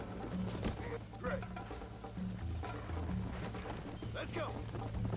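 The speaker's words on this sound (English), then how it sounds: "Eu tô virando o cavalo, cara." Horse hooves clip-clopping at a run in the game Red Dead Redemption, a steady muffled rhythm under continuous talking.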